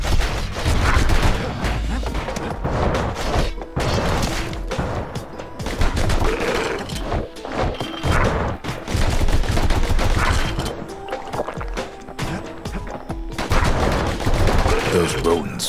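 Rapid pistol fire from dueling pistols in the action game Bastion, dense bursts of shots cracking almost continuously over a busy, loud mix of game effects and music.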